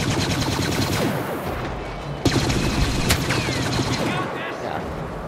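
Rapid gunfire and blaster fire from the Star Wars Battlefront game, crackling in dense continuous bursts with a few sharper shots standing out over a busy battle mix, alongside a distant voice.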